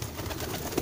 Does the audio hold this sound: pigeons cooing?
yes